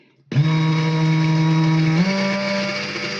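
A kitchen blender whips egg yolk for a layered salad, starting abruptly with a loud, steady motor whine that holds for about three seconds and steps up slightly in pitch partway through, with no talking over it.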